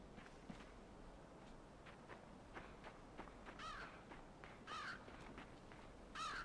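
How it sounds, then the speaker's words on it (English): A crow caws a few times in the video game Limbo, sharp calls rising over a quiet, murky ambient bed with soft shuffling footsteps. "Oh, there's a crow."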